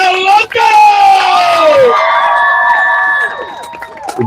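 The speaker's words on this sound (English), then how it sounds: "Let me hear them hands. Clap it up for your first speaker." A protest crowd in Washington Square Park, New York City, cheers, whoops and yells loudly for a speaker, with voices mixed into the roar and a few scattered claps near the end.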